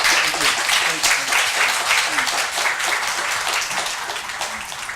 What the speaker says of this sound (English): let's give a round of applause to our guest speakers